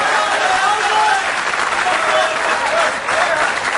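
Dense, continuous audience applause from a crowd at a Moroccan comedy show, a steady wash of many hands clapping loudly with no pause across the whole stretch.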